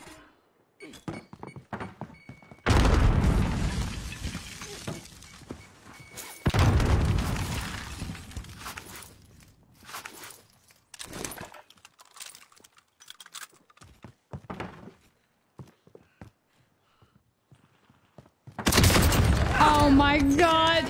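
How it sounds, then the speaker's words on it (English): Loud broadband blasts of grenades going off in a multiplayer shooter video game, two heavy bursts early and another near the end, separated by scattered thuds and short game noises. "There's some nades in there."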